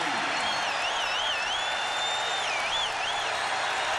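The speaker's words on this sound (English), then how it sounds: "And this crowd is back into it now." A 1993 playoff hockey arena crowd in Buffalo cheering after a goal, with a dense steady roar of applause and a warbling whistle running over it.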